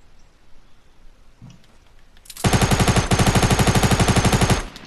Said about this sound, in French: Pourquoi je tire au pistolet mitrailleur?